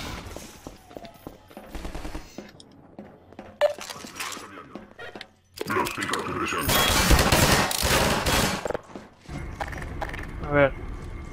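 Gunfire aimed at the player in the video game Half-Life 2, rapid machine-gun bursts and metallic clatter that get louder and denser partway through, with a player talking over the shooting.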